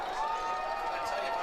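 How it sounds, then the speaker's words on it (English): Football stadium crowd at a high school game, a dense roar of cheering filling the whole moment, loud and continuous, with an announcer's voice over it. "Crowd is rocking."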